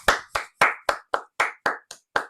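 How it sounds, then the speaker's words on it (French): Nine separate hand claps, spaced evenly about a quarter second apart, close and crisp with silence between each one. A small playful round of clapping after a Canadian Grand Prix Formula 1 result. "Sous vos applaudissements."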